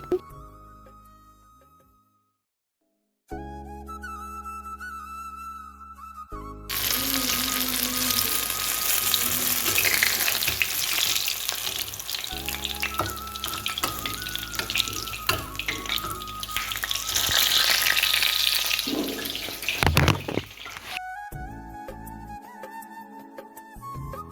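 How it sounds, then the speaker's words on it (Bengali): Spring onion manchurian balls deep-frying in hot oil in a kadai, a loud continuous sizzle and crackle in the middle stretch, with quieter kitchen clatter and water sounds at the start and end. "এবার মাঞ্চুরিয়াটা একে একে ভেজে নেব"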